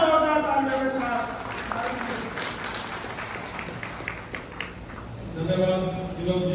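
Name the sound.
audience applause welcoming speaker at a rally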